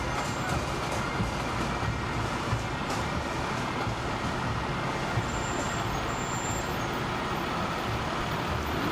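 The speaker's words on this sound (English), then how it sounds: "Another fire truck." A fire truck rolls past in a St Patrick's parade, a steady, loud engine rumble and road noise filling the whole stretch with no clear breaks or talking.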